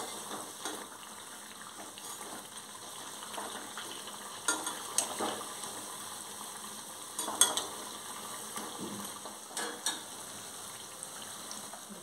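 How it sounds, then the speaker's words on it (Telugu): Medu vada, urad dal fritters, fry in hot oil over medium to high flame, giving a soft steady bubbling hiss with scattered light crackles and pops, fairly quiet and continuous. "మీడియం టు హై ఫ్లేమ్లో మనము ఇలాంటి గారెల్ని కాల్చుకోవాల్సి ఉంటుంది"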